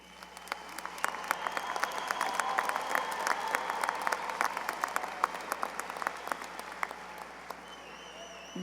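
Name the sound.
graduation audience applause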